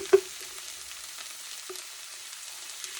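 Garlic frying with translucent onions in a pan for a kielbasa, beef and bean soup, giving a soft, steady sizzle with a couple of light utensil taps near the start.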